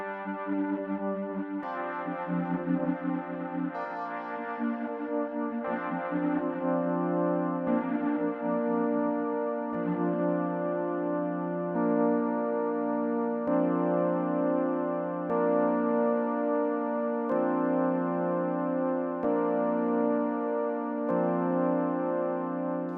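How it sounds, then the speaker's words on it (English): A sustained tone from a Behringer Wave wavetable synthesizer morphs gradually as its waveform shifts, timbre changing from wobbly and spacey to brighter, steadier harmonics, with no voices. "this dial allows you to travel through the waveform"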